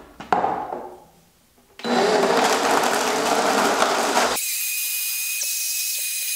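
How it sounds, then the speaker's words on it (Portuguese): A kitchen blender whirs loudly and steadily for a few seconds as it blends detox smoothie ingredients with 150 to 250 ml of water. It is preceded by softer handling noises and followed by a lingering high-pitched motor hum. "botou seu ingrediente no liquidificador, 150 a 250 ml de água"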